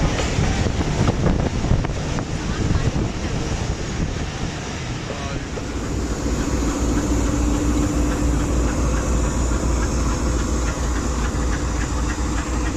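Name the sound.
44 Down Shah Hussain Express train leaving Landhi Junction station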